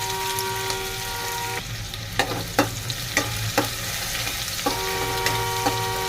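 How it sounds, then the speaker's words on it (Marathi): Finely chopped onion sautéing in oil with cumin in a pan for a moth bean and potato curry, a steady close sizzle with a few sharp scraping stirs partway through and a faint background hum. "बघा कांदा एक मिनिट परतलेला आहे"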